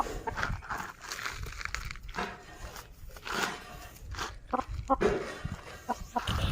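A small chicken makes soft, irregular clucks and shuffling sounds nearby in a quiet outdoor setting, with some low background noise between the calls.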